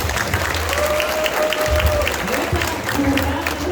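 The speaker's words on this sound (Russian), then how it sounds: "От всей души бурными аплодисментами поздравим наших дорогих" A hall audience at a diploma ceremony for graduates of the Yakutsk College of Communications and Energy gives warm, sustained applause for the teachers, loud and continuous, with some voices underneath.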